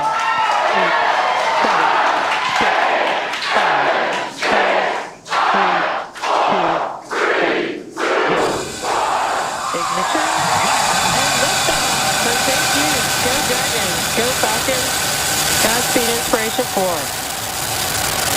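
SpaceX Inspiration4 rocket launch: a countdown voice over crowd noise gives way to a sustained, loud, broadband engine roar that builds and holds as the vehicle climbs, with radio calls under it.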